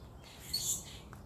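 Birds chirping faintly in a backyard near a trampoline and slide, with short high calls rising briefly over a soft, steady outdoor hum.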